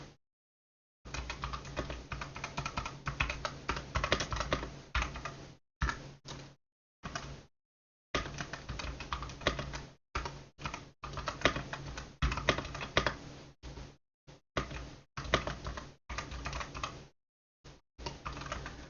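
Typing on a computer keyboard, with quick bursts of close, crisp key clicks broken by short silent pauses, steady in pace throughout and with no voices.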